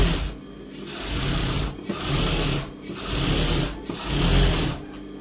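A sewing machine stitches the neck lining of a blouse, running in several bursts of a steady motor whir separated by short pauses, close and loud with no talking.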